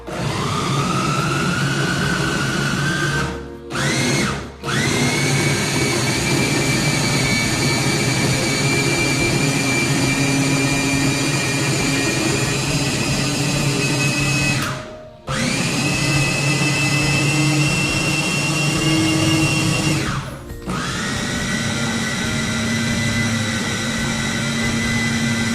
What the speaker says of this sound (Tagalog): I-food processor na po natin yan. So, paandarin na natin ang roleta.